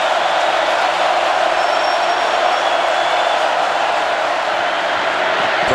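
Florida football stadium crowd at a Tennessee–Florida college game, a loud, continuous roar of massed voices with no break or pause.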